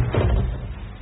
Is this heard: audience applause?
no